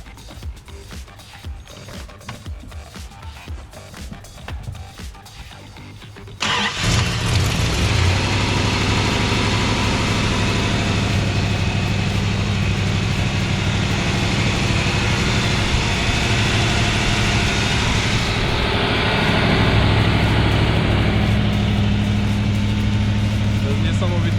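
A 1968 Dodge Charger's 6.2-litre 383 big-block V8 with a four-barrel carburettor and automatic gearbox starts up and settles into a loud, steady, rumbling idle close by. Faint background noise comes before the start, and the idle continues without a break to the end.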